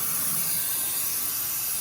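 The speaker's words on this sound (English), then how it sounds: "I'm going to spray off the underside of the engine here where it's pretty oily" Pressure spray hosing off the oily underside of an MG Midget engine, a loud continuous hissing jet that stays steady and close for the whole stretch.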